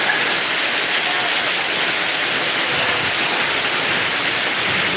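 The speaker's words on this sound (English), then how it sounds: "I'm in this village somewhere, but the rain is insane." Heavy rain pours down on a village road, a loud, dense and unbroken hiss of water striking the surfaces, steady throughout with no voices.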